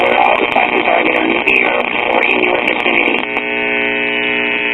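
Raw audio signal from a circa 1938 Emerson portable tube radio, tapped before the volume control: a steady, loud, buzzy hum with garbled broadcast sound that drops out near the end, leaving a plain droning tone.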